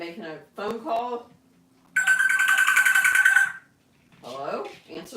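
An electronic phone ringtone trills steadily for about a second and a half, with people talking just before and after it.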